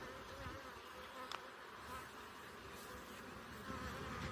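A thick, even drone of honeybees fills the air around an opened hive during a June inspection, sustained and close without letting up.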